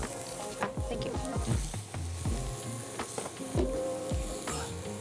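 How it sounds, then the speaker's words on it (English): A shallot sautés in a pan, giving a continuous close sizzle and crackle broken by repeated low knocks and scrapes as the pieces are stirred and moved around. "Now we'll add in 1 shallot just to saute until they turn translucent or white."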